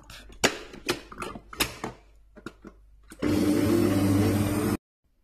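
An electric mixer whips butter cream for topping tarts and cakes, running steadily and loudly for about a second and a half, then cutting off abruptly, after some earlier clatter and handling knocks.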